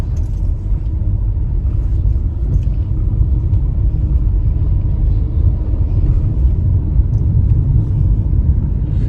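Local vehicles drive along the damaged NH 26 national highway between Landiguda and Sunabeda, heard as a constant heavy low rumble of engines and tires on a rough road, close and steady throughout.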